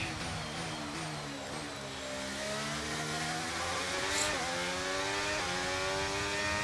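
F1 23 racing game engines, a loud continuous high whine that dips and climbs through gear changes as the cars accelerate on a final lap.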